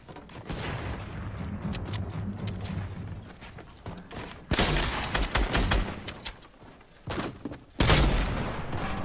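Gunfire in a solo battle-royale video game, with rapid bursts of shots, sharp booms and heavy thuds coming in dense clusters between brief lulls, loud and close.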